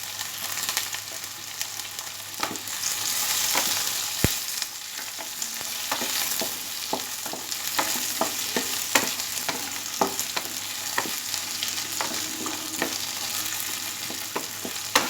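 Thin potato slices and slit green chilies frying over low gas in a pan, giving a dense continuous sizzle broken by sharp clicks and scrapes of a spatula stirring; no voices.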